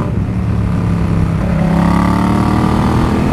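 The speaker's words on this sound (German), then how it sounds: "es poppelt und klappert, also nicht klappert, aber es macht schön brapp, das Motorrad" A 2018 Yamaha MT-07 motorcycle engine revs loudly close to the microphone, the steady roar shifting in pitch as the throttle changes, with a rough, crackly edge and no talk.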